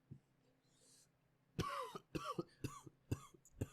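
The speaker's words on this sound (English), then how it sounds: "I'll let you cough for a second." A person coughs close by, first a soft breathy exhale and then a run of five or six sharp, harsh coughs in quick succession.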